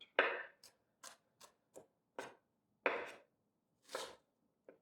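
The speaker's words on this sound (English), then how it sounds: "I'm pushing the knife through the onion just like that, letting the knife do the work." A knife chopping through an onion on a board: about ten close, crisp cuts in an uneven rhythm, quiet and with no talking.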